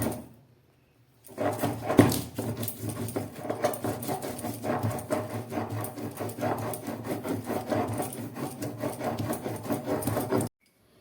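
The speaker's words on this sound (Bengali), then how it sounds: "আমি সর্ষে আর পোস্তটাকে বেটে নিচ্ছি সঙ্গে দিয়ে দিলাম দুটো কাঁচা লঙ্কা" Mustard seeds and poppy seeds with two green chillies being ground into a paste, a steady rubbing, scraping grind that runs continuously for about nine seconds after a short quiet start, with no talking.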